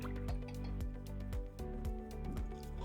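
A glass of water is poured into Onam koottu curry as it cooks. It makes a run of close, gurgling drips and splashes over a steady tonal background.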